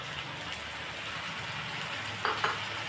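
Tomato paste sizzles and fries in a pan for egg masala. It makes a steady, soft crackling hiss close by, with a couple of brief clinks near the end.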